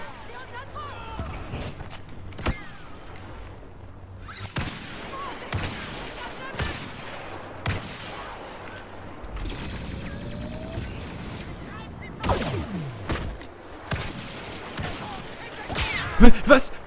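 Several sharp gunshot cracks from the video game Star Wars Battlefront ring out at scattered intervals, some in quick bursts, over a steady background hum with game-like mechanical noises.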